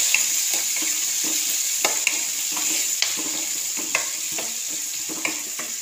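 Beans and chopped vegetables fry in a hot pan for ragi semiya, giving a steady close sizzle. A spoon scrapes and clicks against the pan at a regular rhythm.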